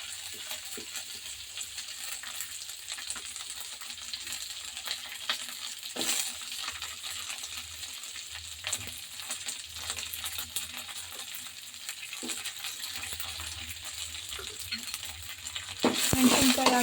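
Green chillies frying in a pan with browned urad dal, a soft continuous sizzle with occasional spoon scrapes and taps against the pan, a brief louder burst of frying near the end.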